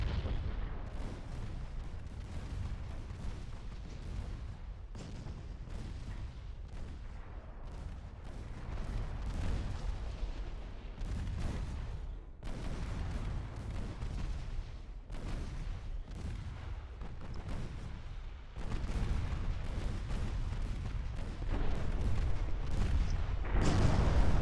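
Naval guns boom steadily in the video game Ultimate Admiral: Dreadnoughts, a long run of heavy low blasts and rumbling impacts, some close and loud, others distant, repeating irregularly throughout with no talk.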